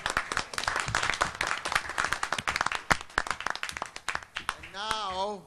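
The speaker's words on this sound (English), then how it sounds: "So we, the members of the Colloquium, are going to applaud you." Audience at an academic colloquium claps steadily in dense, close applause for about five seconds, ending with a wavering whistle-like whoop over the fading claps.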